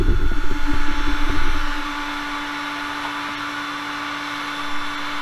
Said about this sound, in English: take my heat gun here